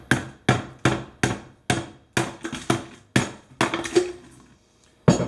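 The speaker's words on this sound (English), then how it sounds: "Come along with the hammer." A hammer chips a block of clear ice in a run of about a dozen sharp, crisp knocks, spaced roughly half a second apart with brief pauses between groups.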